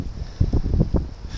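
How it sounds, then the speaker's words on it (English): Gusty wind blows on a windy, rainy day in a park, a rumbling buffet of low wind noise on the microphone with a few stronger gusts across a brief stretch. "Just to show you guys how windy it really is, here's a shot."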